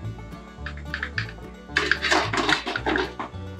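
Water splashing and pouring into a large cooking pot holding an idli stand for steaming, a noisy rushing spill over steady background music.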